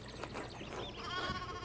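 Sheep bleat in the video game Pentiment, a few wavering calls overlapping at moderate loudness over a soft background, with no talking.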